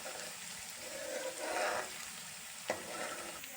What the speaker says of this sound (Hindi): प्याज हमारा फ्राई हो गया है।